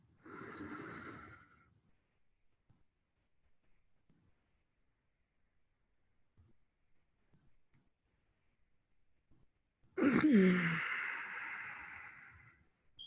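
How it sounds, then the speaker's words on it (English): A slow, deep breath drawn in and released near the start of a quiet meditation session, followed by a long silent pause and then a second strong, close inhalation toward the end. "Take a deep breath."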